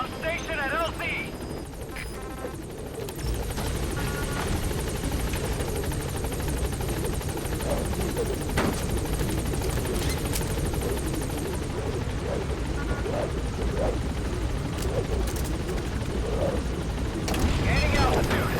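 The Pequod helicopter hovers at a landing zone in Metal Gear Solid V, its rotor thumping loud and continuous throughout, with game dialogue and voices over the steady roar.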